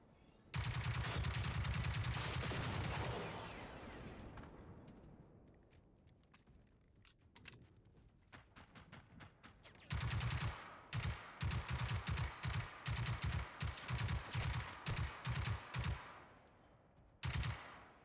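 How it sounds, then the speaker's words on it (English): Robots firing in the video game Generation Zero: loud sustained bursts of automatic gunfire open and return later as a rapid string of separate shots, with quieter scattered shooting between, no talk. "Where's this other one shooting me from?"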